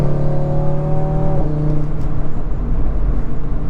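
A 2023 Audi RS3 accelerates hard on cold roads with all-season tires, its engine note climbing in pitch before a brief dip as it shifts, then a deep, loud drone carrying on from inside the cabin.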